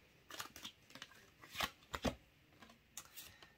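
Tarot cards are shuffled by hand close by, several quick riffling and slapping bursts in an uneven rhythm, quiet and with no voice over them.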